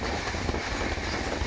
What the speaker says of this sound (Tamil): ஏன்னா அந்த ட்ரெயின் போகுது பாருங்கள்